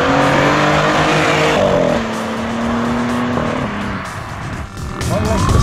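A BMW prototype car with a three-cylinder 1.5-litre TwinTurbo engine drives along, its steady engine drone shifting in pitch throughout, with road noise underneath.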